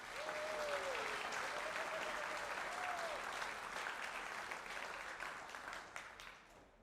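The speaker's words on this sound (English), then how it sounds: "please join me in a round of applause once again for Matt Arola." Sustained audience applause fills a hall at an athletics hall of fame induction ceremony, dense steady clapping from a crowd that slowly tapers off, heard at a moderate distance.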